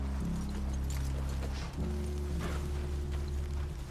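Horses clip-clop in The Witcher 3: Wild Hunt, a steady patter of hooves over a low continuous rumble, close and fairly loud, with a brief dip in the middle and no voices.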